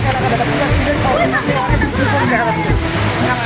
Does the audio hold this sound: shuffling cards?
no